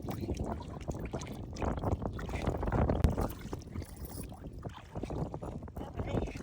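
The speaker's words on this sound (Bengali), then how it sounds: "আজকে পুকুর পাড়ে রে বাতাস, রোদ নাই, ঠান্ডাও লাগে" Wind blows across a pond bank on a cool, sunless day, making a continuous gusty rumble and buffeting that swells and fades, with voices talking underneath throughout.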